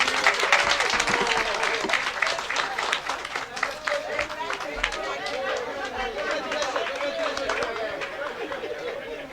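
Audience applause at a virtual political party general assembly, a sustained crowd of clapping mixed with chatter and voices that stays busy and fairly loud across the whole stretch.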